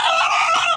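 A country rooster at a poultry shop, a single loud, close cluck-crow call lasting under a second.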